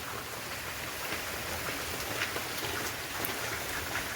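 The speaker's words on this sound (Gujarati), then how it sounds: "અત્યારે વરસાદ હજી ચાલુ જ છે કન્ટિન્યુ" Steady morning rain pours onto a flat rooftop terrace after a night-long downpour, a continuous dense hiss with scattered brighter drop taps and no voices.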